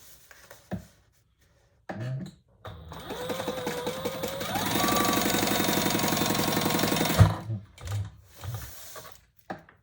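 A sewing machine runs a steady, rapid stitch across the bottom of a fabric wallet for several seconds, close and fairly loud, preceded and followed by brief handling knocks.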